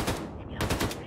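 Heavy automatic gunfire from a big gun in the video game Wolfenstein, a loud rapid burst that pauses briefly and then resumes, filling the whole moment without any talk over it.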